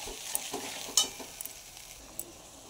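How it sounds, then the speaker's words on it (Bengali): Garlic paste frying in a pan as it is stirred, a soft steady sizzle with occasional light clicks and scrapes of a spoon against the metal. "কিছুক্ষণ এটাকে ভাজা ভাজা করে নাড়াচাড়া করে নেব।"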